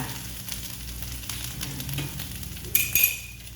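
Pork belly stir-fries in hand-pounded northern Thai curry paste for a cabbage curry, giving a moderate, steady sizzle over a low background hum, with a couple of sharp utensil clinks near the end.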